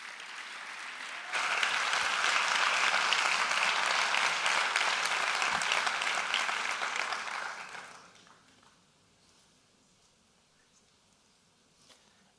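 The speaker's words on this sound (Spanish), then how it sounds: "Un fuerte aplauso para Javier Burgos." A crowd at a talk bursts into loud, sustained applause for several seconds, then the clapping fades away into near silence.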